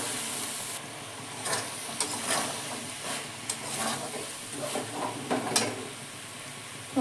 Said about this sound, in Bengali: কড়াইটাও কষে নেব একটু